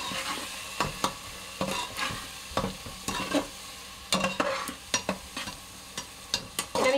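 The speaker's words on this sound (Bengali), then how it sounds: "আমি 2 মিনিট কষবো।" Spices with turmeric and salt are stir-fried in a pan for mutton curry, a low steady sizzle broken by repeated sharp spatula scrapes and knocks that grow quicker toward the end.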